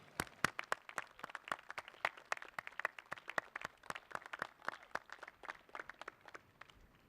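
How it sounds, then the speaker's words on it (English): A graduate commencement audience gives a round of applause for families, sparse and fairly distant, with individual claps spaced irregularly and no talk. "please give them a round of applause"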